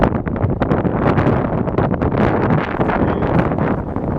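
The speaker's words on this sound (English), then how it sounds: "otherwise the wind makes it impossible to hear" Wind buffets a microphone outdoors in a market garden with a loud, continuous low rumble and gusty roar across the whole stretch, drowning out other sounds.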